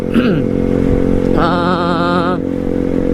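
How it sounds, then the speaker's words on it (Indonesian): A motorcycle with a loud open knalpot brong exhaust idles close by with a rough, pulsing drone, then briefly revs up for about a second before settling back to idle. "Jadi knalpot brong ini"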